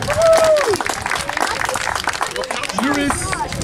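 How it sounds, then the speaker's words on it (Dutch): Parents and children at a youth football trophy ceremony for under-six players clap in a warm, lively burst, with voices chattering over the applause. "Een warm applaus voor Emerald."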